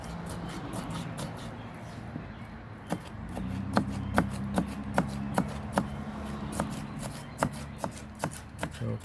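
A knife chops peppers into small chunks on a cutting board, a steady series of crisp, close taps that start sparse and settle into a quicker rhythm, with no talking.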